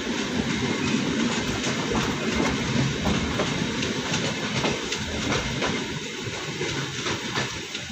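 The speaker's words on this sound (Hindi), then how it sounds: "दोस्तों अब हमारी ट्रेन को बाराबंकी जंक्शन पर एक अनशेड्यूल्ड हॉल्ट के लिए रोका जा रहा है" Patliputra Intercity passenger train running along the rails, a steady, loud rumble with rattling carriage noise and faint clickety-clack throughout, with no talk.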